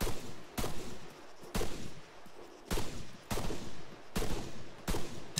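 Gunfire in the military shooter game Arma 3 comes as loud, sharp shots at a steady interval of roughly one per second, each with a short echoing tail, with no talk over them.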